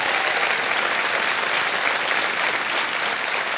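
A studio audience on a quiz show claps in a steady, dense burst of applause that stays even and loud throughout.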